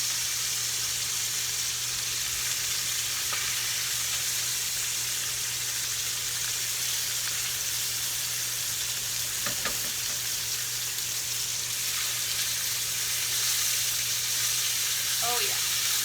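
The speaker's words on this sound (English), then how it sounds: "Yep, I'm getting some good browning. So I'm going to flip." Tomahawk pork chops sizzling loudly in a hot pan just after being flipped, a dense, steady frying hiss with occasional small pops and clinks throughout.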